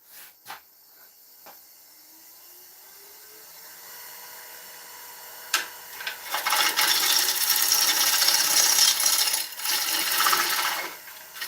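Gentle cuts on an ash bowl spinning on a woodturning lathe, a soft rising scrape that builds into a loud, steady rasping shaving sound in the second half, broken by a few sharp ticks and knocks.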